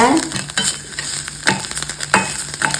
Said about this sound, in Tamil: பாசி பருப்பு வறுபட்டுருச்சு தேங்காய் வறுத்துக்கலாங்க